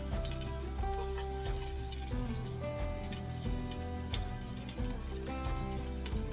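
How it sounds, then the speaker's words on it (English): Chopped onion frying in warm olive oil in a pan, a soft crackling sizzle like light rain, running steadily underneath louder background music. "Just warm the olive oil through. I'm putting in the onion."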